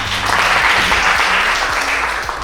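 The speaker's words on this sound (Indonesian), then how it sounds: "Tepuk tangan dia." Brief, loud applause in a classroom at the Indonesian railway polytechnic, a dense burst of clapping lasting a couple of seconds with low hum beneath.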